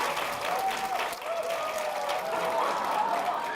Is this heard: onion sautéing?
no